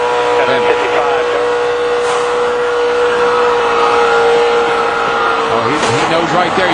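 ARCA stock cars roar at Daytona in a multi-car wreck, engines droning loud and continuous with rising and falling passes, a tire going down amid the pile-up, under a commentator's talk.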